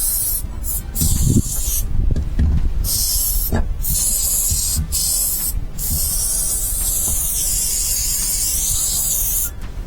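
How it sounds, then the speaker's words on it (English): Nut Job lubricating and degreasing spray hisses in loud, close bursts into a Lewmar sailboat winch being serviced, several short spurts then a long continuous spray. "give that a bit of a spray, I think, to clean it out. Using Nut Job, it's a lubricating spray."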